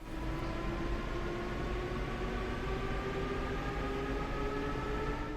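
A train runs in the Train Sim World: Rapid Transit video game, giving a steady, continuous rumble with a faint droning hum that holds at an even level throughout, with no voices.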